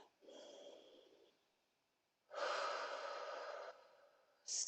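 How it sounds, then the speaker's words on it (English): A slow, deep breath taken during an all-levels yoga spine exercise, a soft inhale followed by a longer, fuller exhale, close and quiet with a brief sniff at the end. "Take a breath."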